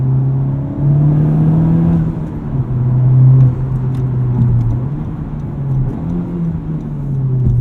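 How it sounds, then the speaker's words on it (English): A 2020 Honda Civic Type R engine heard from the cabin, droning steadily and rising in pitch with a couple of quick rev-match blips during downshifts, no talk. "The rev match downshift system works great."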